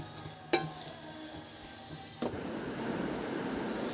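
Pepper powder stirred into a pan of koottukari curry, a spoon scraping and clinking twice against the pot before a soft, steady sizzle of simmering food settles in, close and moderately quiet.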